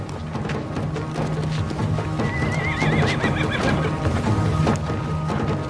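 Horses whinny and neigh over a steady clip-clop of hooves as they file through a rocky mountain pass, with a busy, continuous clatter of movement.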